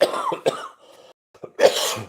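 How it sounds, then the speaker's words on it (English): A few short, harsh coughs close by, with a throat-clearing rasp and a brief pause before a final louder cough. "I knew the cough would kick in eventually."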